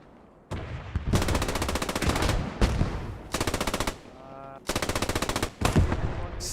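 Bursts of MG34 machine gun fire in the World War II shooter Post Scriptum, several long rapid rattling volleys separated by short pauses, loud and close, with a faint tonal sound in one gap.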